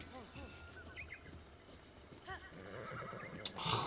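Horse neighing in the video game Zelda: Breath of the Wild, a couple of loud whinnies near the start and again mid-clip, with hoof clip-clops and light ambient noise.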